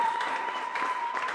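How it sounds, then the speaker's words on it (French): A church congregation applauding Jesus, a steady wash of many hands clapping together at moderate volume with voices mixed in faintly throughout. "Donc acclamez très fort Jésus."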